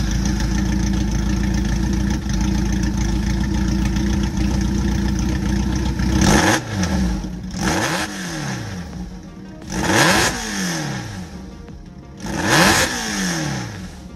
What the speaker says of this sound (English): This is the sound that came out from a 204 pieces of stainless steel pipe system.